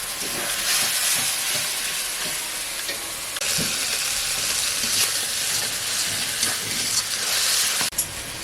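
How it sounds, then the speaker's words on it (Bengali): Snakehead fish with tomato frying in hot oil in a home kitchen, a dense steady sizzle and hiss running throughout, with occasional stirring scrapes and a brief clatter near the end. "ভালো করে ভেজে নেবো"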